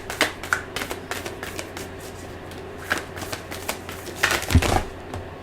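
Cards are shuffled and drawn for a reading, with repeated crisp riffling and snapping bursts of card shuffles and soft slaps as cards are laid down, close and clear.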